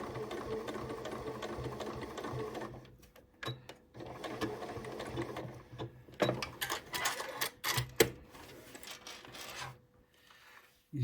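A domestic sewing machine stitches fabric for a cathedral window Christmas tree decoration, running in steady whirring bursts separated by short pauses, with a few light clicks and rubbing noises in between.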